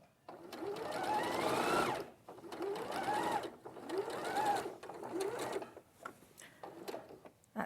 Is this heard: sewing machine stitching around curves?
yes